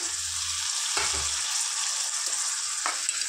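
Half a kilogram of tomatoes goes into a pan of ginger-garlic paste for tomato egg curry, giving a continuous close sizzle broken by a few soft stirring knocks.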